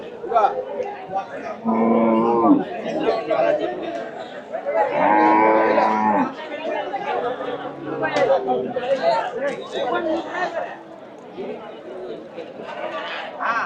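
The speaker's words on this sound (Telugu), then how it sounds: "ఆవులు గేదెలు గట్టిగానే వచ్చాయి" Cows and buffaloes moo loudly twice, close by at a cattle market, amid the murmur of people talking and animals shuffling around.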